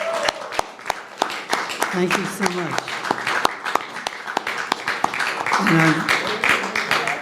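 An audience at a religious-minorities and media bias seminar gives a sustained round of applause for the speakers, dense clapping throughout, with a voice talking over it partway.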